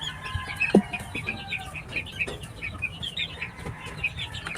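Chickens on a farm where cockerels and pullets are kept, with rooster calls, clucking and a brief burst of wing flapping over steady background bird chatter, moderately close.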